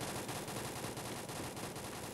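Rapid automatic gunfire in the Free Fire battle royale game, a continuous burst of tightly spaced shots rattling loudly and evenly for a couple of seconds with no voices.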